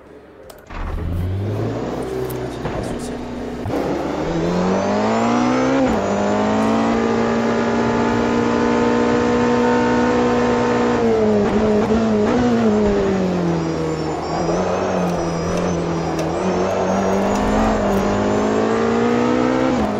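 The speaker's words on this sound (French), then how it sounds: "On va passer maintenant sur AMS2, on va repartir encore sur une dernière hypercar" A hypercar in the sim racing game Automobilista 2 (AMS2) revs hard through its gears, the engine note climbing and dropping steadily across shifts, loud and continuous with no talk over it.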